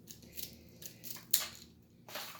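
Shaped craft scissors snip along a dried autumn leaf in a few soft, separate cuts, quiet and close, with one sharper crunch near the middle.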